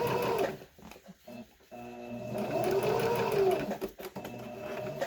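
A sewing machine stitches fabric for a Yale hospital-pattern mask in steady whirring runs broken by short pauses and needle stops, close and clear, with no talking.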